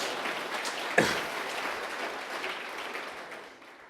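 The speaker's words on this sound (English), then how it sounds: "Sure, clap." Audience applause at a 2016 summit welcome address, a burst of clapping from a crowd that starts sharply and then gradually fades over several seconds, with no speech over it.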